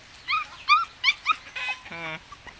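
A puppy whimpers and yips in a series of high, thin whines, then a longer drawn-out whine; close and fairly quiet.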